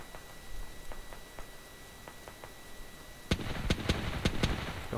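Faint distant shots popping at first, then a burst of louder, closer rapid gunfire cracking over a noisy background in the video game Squad, with no talk.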